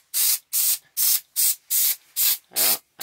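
Seven short bursts of faux-granite stone spray paint hiss from an aerosol can in a steady rhythm, each about a third of a second with brief pauses between, loud and close.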